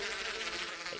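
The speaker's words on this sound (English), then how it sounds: "There's so many bees." Bees in a modded survival video game give off a continuous, faint, high-pitched buzzing drone that wavers slightly in pitch over a single second, with no talk.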